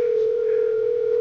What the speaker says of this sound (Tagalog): nagre-ring na ang cellphone ni Marisa